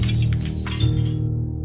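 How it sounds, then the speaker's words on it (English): A car window shatters with a sharp burst of breaking glass, followed by brief tinkling debris over a steady low engine-like rumble. "Lincoln's window is smashed."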